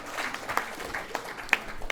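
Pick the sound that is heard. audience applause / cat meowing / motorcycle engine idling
audience applause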